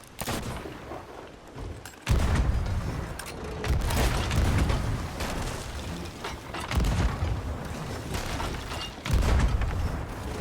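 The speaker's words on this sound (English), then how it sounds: "I carried on pummeling it with cannonballs anyway" Ship cannons in Sea of Thieves fire repeatedly while cannonballs pound a target, with booms and explosions recurring every couple of seconds over a rumbling, crackling background.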